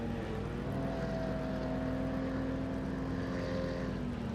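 Jaden Harrison's race car engine hums steadily in the pit box at Monza, a sustained drone with a slowly rising whine, alone and loud throughout.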